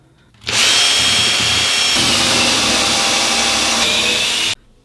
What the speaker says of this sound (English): then I'm going to drill the pilot hole for the fasteners